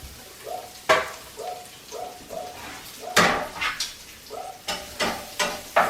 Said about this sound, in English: I'm going to put that garlic right in the pan.